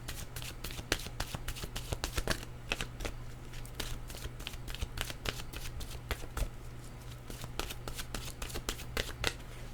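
Oracle cards shuffled by hand in a fast, continuous run of papery flicks and taps, close and clear over a faint steady hum, with no talking.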